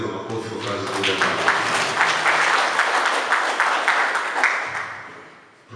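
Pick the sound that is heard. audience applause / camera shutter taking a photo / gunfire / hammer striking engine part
audience applause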